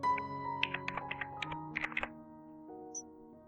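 Keystrokes on a computer keyboard while entering a package name in game development software, a quick run of distinct close taps over a steady electronic hum, then a single late tap.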